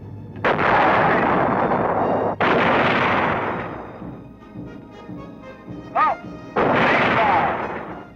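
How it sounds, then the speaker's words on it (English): A tank's main gun fires at moving targets during a crew gunnery qualification course, three very loud, booming blasts spaced a couple of seconds apart, each with a long rumbling decay, plus a short higher tone between the second and third. "Perhaps the test may be for use of the main gun at moving targets."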